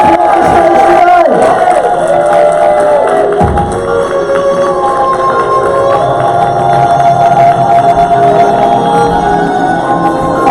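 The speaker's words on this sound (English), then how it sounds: "Give them a cheer." An audience cheers and shouts for the models at a Wild Wild West Con fashion show, a loud, sustained crowd roar with whoops, mixed with talk over it.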